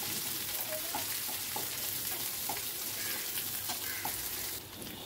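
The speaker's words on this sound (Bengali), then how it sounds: "এবারে এর ভেতর দিয়ে দেবো পেঁয়াজ কুচিটা, সেদ্ধ করে রাখা পেঁয়াজ কুচিটাও দিয়ে দিলাম," Chopped onion, including some pre-boiled, sizzling and frying steadily in a pan as it is stirred, a dense continuous crackle with scattered sharper pops, close and loud throughout with no talk.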